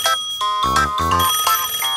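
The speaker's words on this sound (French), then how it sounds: "d'où vient cette sonnerie? Oh, c'est le téléphone." Cartoon telephone ringing with bright, bell-like tones in quick repeated bursts, loud and close, with no talk over it.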